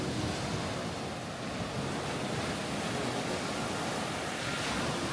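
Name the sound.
ocean waves on a Caribbean beach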